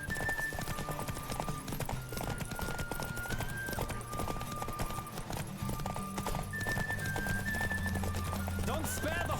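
Hooves pound in a fast galloping rhythm during a horse race in The Witcher 3, with whinnies and snorts over a steady musical score, loud and continuous throughout.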